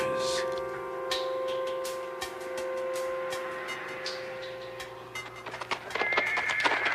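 A cowboy horse whinnies and neighs over clip-clopping hooves, the calls near and fairly loud, with busier hoof clatter toward the end and no talking over it.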